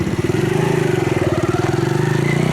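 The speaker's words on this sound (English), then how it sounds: "Just to give you a feel for how the bike takes off, accelerates, great fun to ride." A Venom X22 125cc four-stroke motorcycle pulling away and accelerating, a loud, close, steady engine drone with a rapid pulsing beat that holds fairly even in pitch.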